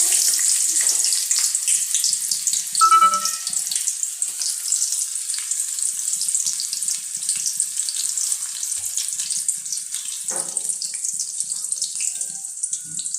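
Onions frying in hot oil for wheat rava upma, a bright, hissing sizzle that stays steady and fairly close throughout, with only faint bumps of other kitchen noise and no speech.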